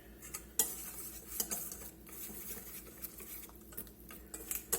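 Raw beef dusted with cornstarch is stirred in a bowl for Beijing beef, with a utensil clinking and scraping against the dish in irregular close taps and a soft wet patter underneath, no talk.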